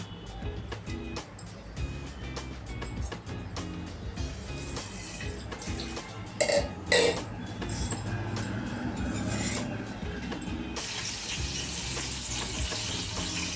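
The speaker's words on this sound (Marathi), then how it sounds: "अशी आपण आता थोडीशी वांगी परतून घेऊया तेलात" Eggplant pieces sautéing in hot oil in a pan for a traditional Maharashtrian spicy eggplant dish, a steady close sizzle and fry with occasional clinks of a utensil stirring and scraping, growing brighter toward the end.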